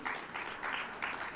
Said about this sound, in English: Make them welcome again with a round of applause.